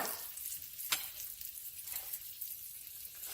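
Butter sizzles and crackles steadily in a pan while scallops sauté, a soft, constant frying hiss with a few louder spits.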